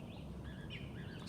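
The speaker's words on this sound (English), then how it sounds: "There's some birds in the background." Birds chirp outdoors in the background, with several faint, short tweets scattered over quiet ambient noise.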